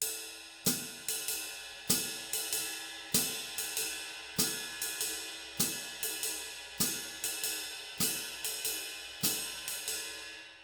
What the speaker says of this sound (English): ride cymbal pattern, and we're going to add our hi-hat pattern